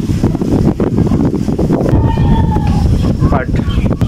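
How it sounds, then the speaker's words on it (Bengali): Open-air wind blows across a roadside spot where cattle are tethered, among jute farmland in the Chalan Beel wetland. Loud, gusty buffeting against the microphone runs throughout, with faint voices underneath. "এখানে সুন্দর বাতাস লাগে তো, মুক্ত হাওয়া"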